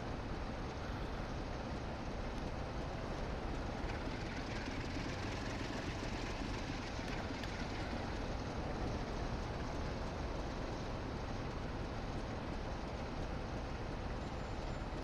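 A BR Class 33 diesel train runs in Train Sim World on the Northern Trans-Pennine route, a steady, unbroken engine drone and rolling rumble that stays level throughout with no talking.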